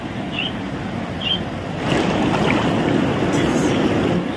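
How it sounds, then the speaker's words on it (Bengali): A river flows steadily near a resort in offbeat Kalimpong, North Bengal, a continuous broad rushing of water with some wind buffeting, loud and close, with a faint bird chirp or two. "এই যে নদী"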